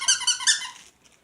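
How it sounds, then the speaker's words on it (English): A squeaky beaver dog toy with a paddle tail, squeezed in a quick run of about four close, high-pitched squeaks that fade out in just over a second. "It's a squeaky toy."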